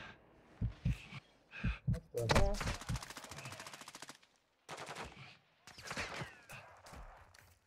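Bursts of automatic gunfire in Call of Duty Warzone 2 DMZ: several short rapid volleys of close machine-gun fire broken by brief pauses, with a few single shots mixed in.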